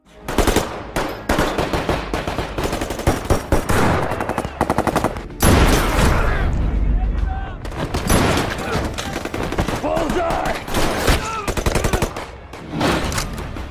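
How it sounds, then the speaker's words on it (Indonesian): Dense bursts of automatic gunfire and single shots rattle through a film shootout between robbers and the police, loud and close, with brief lulls and a heavy blast near the middle. "Satu persatu dari para polisi berhasil ditembak oleh ketiga perampok yang masih tersisa."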